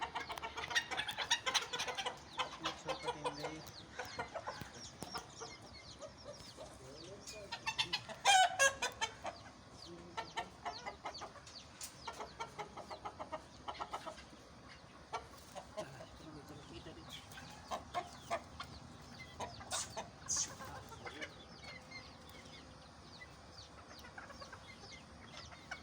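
Chickens on a poultry farm cluck steadily in a busy, overlapping chorus, with occasional louder calls and a brief crow rising over the flock noise.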